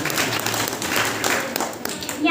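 Enthusiastic applause from a village audience in Haripura at a Savitribai Phule birth anniversary celebration, welcoming a girl to recite a poem; loud, dense clapping fills the short stretch without a break.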